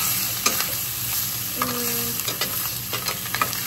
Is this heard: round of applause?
no